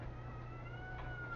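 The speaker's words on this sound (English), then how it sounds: "Please shut your cat up." A house cat meows in a home kitchen while supper is being cooked, its drawn-out tonal cries steady and fairly close over a low background hum, with no talking.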